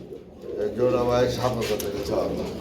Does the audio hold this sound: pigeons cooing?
yes